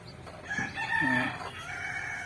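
A native country rooster crows once, close and clear, a drawn-out call with rising and falling tone, with other hens faintly clucking in the background of a backyard poultry setting.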